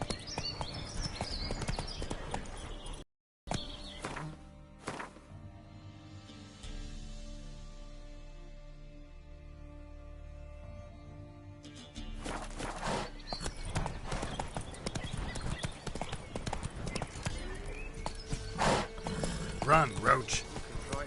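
Roach, the horse in The Witcher 3, gallops with rhythmic hoof clip-clops that break off briefly, return softer amid game sounds, then grow louder and denser toward the end, with someone talking over them.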